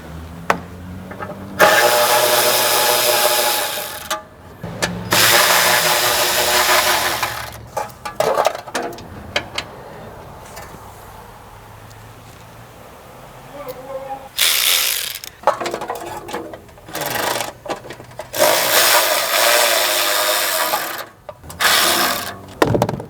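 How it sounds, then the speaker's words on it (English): A cordless electric ratchet works on a 10 mm fastener holding a shield on a Mitsubishi Outlander, near the AC expansion valve. Several loud, close whirring bursts are separated by quieter pauses. "And you know I'm gonna try to use my electric ratchet if I can."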